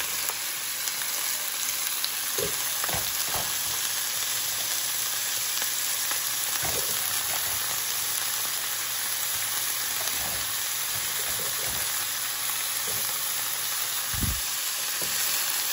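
Eggs and hotdog fry in a small pan called a kawali, giving a steady close sizzle with occasional scrapes and taps from stirring, and no voices over it.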